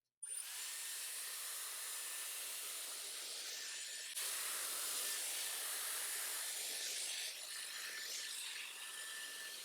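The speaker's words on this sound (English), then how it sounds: "As I'm drying my hair" A Dyson hair dryer blows a steady, close broadband hiss of air while drying hair that has been treated with a heat protector. The rush holds even and unbroken throughout, apart from a slight shift partway through, with no talking.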